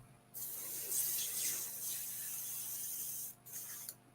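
An airbrush sprays in a steady, close hiss for about three seconds, then pauses briefly and gives a short second burst, with no talking over it.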